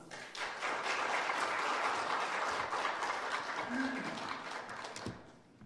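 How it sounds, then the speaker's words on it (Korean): A church congregation at a Wednesday prayer meeting applauds to welcome a missionary to the front, a broad, steady wash of clapping that holds for several seconds and then fades out. "지금 이 시간 정태건 선교사님 나오실 때에 박수로 환영하며 맞이하겠습니다"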